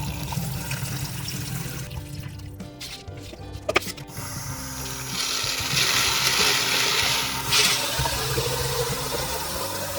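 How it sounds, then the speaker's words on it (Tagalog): Water is poured and drained off soaking mung beans, a close splashing, running flow that starts faint, swells into a steady rush after a few seconds, and continues throughout with a few brief clatters. "Then discard the water."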